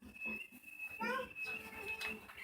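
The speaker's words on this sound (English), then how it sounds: "The chirping of these birds, music resonating in the woods," Birds chirping in the woods, with short bright warbling calls and a thin sustained whistle, heard at moderate distance beneath soft background noise.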